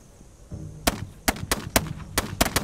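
Gunshots in a survival video game, a sparse series of about seven sharp cracks spaced irregularly over a low hum, moderately loud with no talk.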